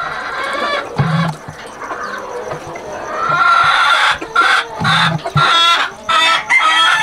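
Sweater and Chucky gamefowl, a young cockerel among them, crow and cluck in repeated bursts at close range, with harsh drawn-out crows standing out over steady clucking and a faint voice now and then.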